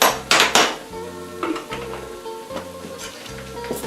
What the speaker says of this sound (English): Gotta stir my vegetables so they don't burn.